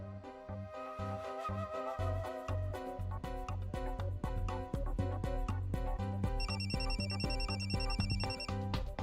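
A phone rings with a melodic electronic ringtone during a Marathi TV serial scene, playing continuously and clearly with a steady beat and bright repeating tones, and nobody speaks.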